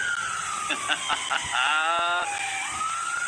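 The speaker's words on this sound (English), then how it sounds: "Impending dangerous spaceflight operations 10 minutes from this siren." A Starship launch-site 10-minute warning siren at Boca Chica, Texas wails, rising and falling with a bright, sweeping tone, heard at moderate distance over a steady background hum.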